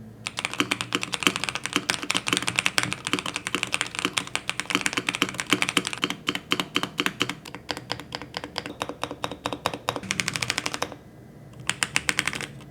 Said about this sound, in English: They sound very clicky and creamy as you'd expect from a regular mechanical keyboard